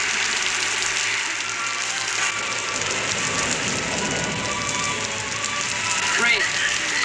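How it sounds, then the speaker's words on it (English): Steady rain falling in an outdoor Western setting, a dense, even hiss of drops on surfaces that holds throughout at moderate level, with no voices over it. "It's raining."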